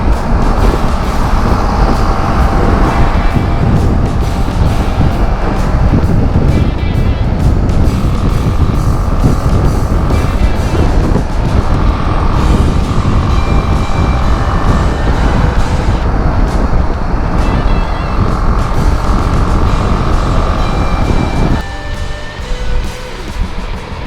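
A BMW G310 GS motorcycle engine drones loudly and continuously while riding through the gears, with shifting pitch and wind roar, easing down near the end.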